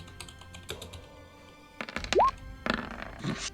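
Handful of dice clattering and tumbling across a table during a Dungeons & Dragons session, a series of quick clicks and thunks building to a louder scatter near the end, fairly close and with no talk over it.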